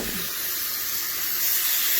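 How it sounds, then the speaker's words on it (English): Marinated chicken for an Italian gyro sizzles brightly and steadily in a hot pan, close and continuous, swelling slightly louder toward the end. "You get a sizzle, that's what you want."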